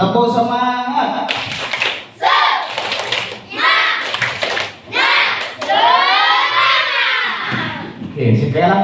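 A classroom of children performs a rhythmic spirit clap led by a teacher, bursts of clapping in patterned groups alternating with loud chanting and the teacher's voice.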